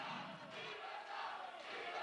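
A crowd at a political rally applauds and cheers in a steady, dense wash of clapping and voices that holds at an even level throughout.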